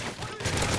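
Dense gunfire in the video game Call of Duty MW3 survival mode, a continuous loud, close burst of rapid shots filling the whole moment without pauses.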